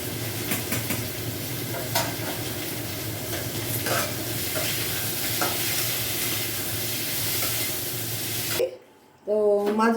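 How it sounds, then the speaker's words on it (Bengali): Ginger fries in a pan with a steady, close sizzle and crackle while a fish curry is being cooked, broken near the end by a brief quiet gap and a faint voice. "এখন আদা করে ভাজা করছি।"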